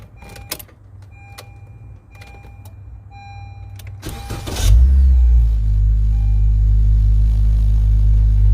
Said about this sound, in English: Hold on, let me just start the car.